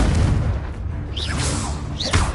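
A Confringo spell in Hogwarts Legacy lets off a booming blast with a whooshing magical swirl and fiery crackle, fairly loud and close, followed by a second rushing burst.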